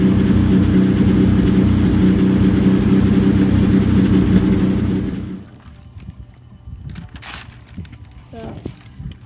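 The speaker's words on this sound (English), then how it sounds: "You can hear the stutter in the exhaust pipe." Exhaust of a 1937 Chrysler Imperial roadster idles with a low, stuttering rumble for about five seconds, then cuts off, leaving quiet background noise and faint scattered sounds.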